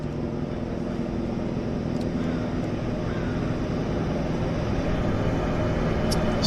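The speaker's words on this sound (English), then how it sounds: "I can certainly hear it chopping away. Yeah, it is heli jet. It's just above us." A Helijet helicopter flies overhead at Vancouver Harbour's floatplane base, a steady low rotor and engine drone that holds constant and grows slightly louder toward the end, with no voices heard.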